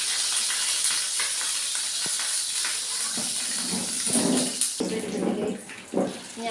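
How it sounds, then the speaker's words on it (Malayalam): Water-tainted ghee sputtering and crackling in a hot pan while cooking payasam, a steady hissing sizzle with sharper popping bursts toward the end, close and fairly loud. "നെയ്യിൽ വെള്ളം ഉണ്ടായിരുന്നു തോന്നുന്നു, പൊട്ടിത്തെറിക്കുന്നു"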